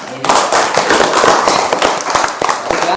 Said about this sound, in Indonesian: Beri aplaus dulu untuk teman kita